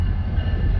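A CSX freight train rolls past the Gulfport Amtrak station, a loud, steady low rumble of rail cars heard up close for a brief moment, with no voices.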